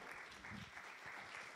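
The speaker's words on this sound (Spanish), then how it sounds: "vamos a recibir a Diego con un fuerte aplauso" Very faint, distant applause from a university audience welcoming professor Diego García before his lecture on smart contracts, a brief steady patter of clapping.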